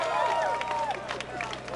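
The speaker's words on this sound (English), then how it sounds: "Come on, give them all a big round of applause." A rally crowd for citizens protesting a county GOP chairman applauds and cheers in a steady, dense wash, with a voice speaking over the noise.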